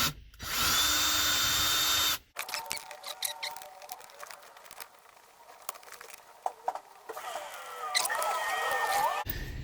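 A power drill on a 1994 Ford Ranger drives screws to fasten a cup holder, giving one steady, close whir of about two seconds, followed by quieter clicks and handling noises.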